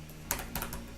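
Keys clatter on a computer keyboard while a SELECT statement is typed into a MySQL query editor, giving two or three close, crisp keystroke bursts in about a second with no talk.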